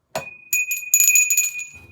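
A small bell rings a few times with a bright, sustained metallic tone, struck in quick uneven taps, close and clear with no talking over it.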